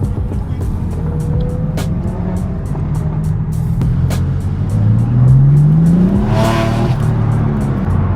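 A Maserati pulls away and accelerates, its engine note climbing steadily in pitch over several seconds amid other supercar engines idling and rumbling nearby, with a loud swell toward the end.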